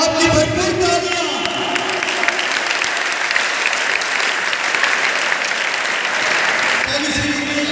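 A crowd at a cricket championship prize distribution ceremony in Khanewal gives loud, sustained applause, dense clapping filling the whole stretch with faint voices beneath.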